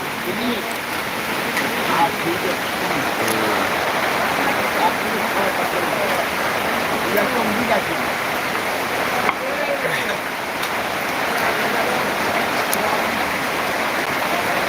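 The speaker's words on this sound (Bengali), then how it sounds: "প্রচুর বৃষ্টি" Heavy rain during a week of downpours that has flooded fields, a steady broadband wash of water running throughout, with faint voices mixed in under the continuous roar.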